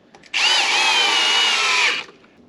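A power drill drives a yellow construction screw into heavy wood, a loud, steady high-pitched whine running about a second and a half before stopping abruptly, with no talk.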